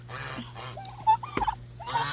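Domestic turkeys, a blue-headed tom and a hen, give a few short gobbling and clucking calls close by, spread over a quiet background hum.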